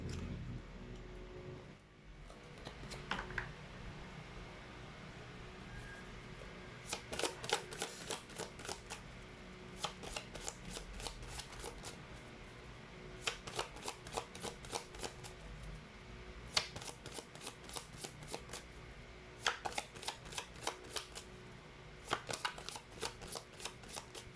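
Chinese fortune cards shuffled in repeated bursts of quick riffling clicks, close and fairly quiet, with short pauses between rounds and no talking.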